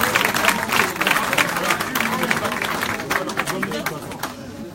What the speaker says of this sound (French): c'est toute l'équipe ce soir que vous pouvez applaudir